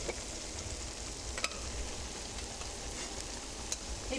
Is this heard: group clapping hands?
no